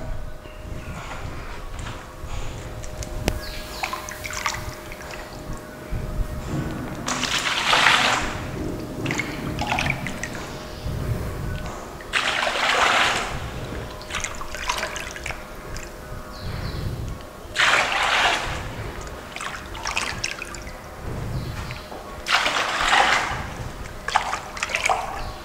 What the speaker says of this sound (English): I'm now going to measure the 10 liters of water.